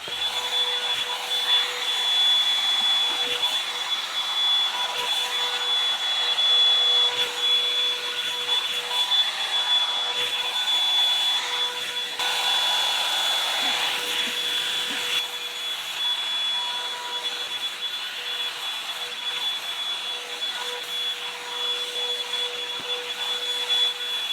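Revlon One-Step hair dryer and volumizer blowing on its cool setting, a loud continuous whooshing drone with a steady high whine that runs unbroken throughout.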